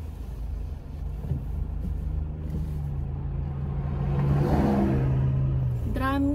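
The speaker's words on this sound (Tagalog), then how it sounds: "Daming sasakyan ngayon. Dami talaga." Road traffic with many cars passing by a bridge, a continuous engine rumble that swells as vehicles go past, with a brief rising tone near the end.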